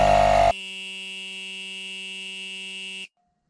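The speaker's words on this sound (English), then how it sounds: "I'm going to inflate all of my tires to 40 psi" A Ridgid 18V digital tire inflator runs with a steady mechanical buzz, starting with a brief louder burst and then a constant drone that holds for a few seconds before cutting off abruptly into silence.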